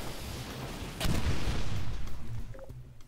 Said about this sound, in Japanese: なんか爆発した。